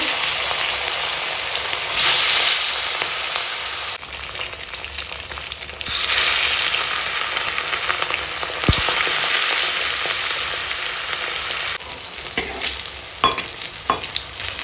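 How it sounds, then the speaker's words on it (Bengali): The remaining catla fish pieces sizzle loudly in hot oil, with surging bursts of frying and, near the end, sharp clinks and scrapes of a utensil turning the fish. "এখন বাকি মাছগুলো ভেজে নেব"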